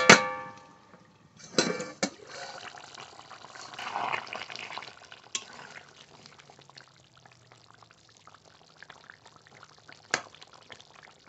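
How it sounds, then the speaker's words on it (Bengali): A metal lid clanks off a pot of simmering chicken kosha curry with potatoes, a loud ringing clang at the start, followed by soft bubbling and sizzling with a few sharp clinks of metal spaced through the rest, no talking. "মাংসর ঢাকনা তুলে নেব।"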